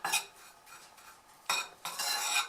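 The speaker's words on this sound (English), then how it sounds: "all of the lumps just simply fall apart with a little bit of stirring" Dry dehydrated sodium acetate powder being stirred to break up its lumps, giving soft scraping and rustling bursts that swell and fade, louder near the end, with no voices.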